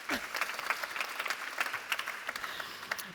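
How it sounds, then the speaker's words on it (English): Audience clapping at a panel interview during a soil forum, a fairly sparse, moderate-level patter of hands held steady for a few seconds with no voices over it. "Oh, you can clap."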